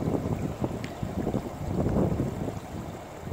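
Water flows steadily in Narrows Creek, a continuous broadband rushing and burbling heard at close range with no one speaking.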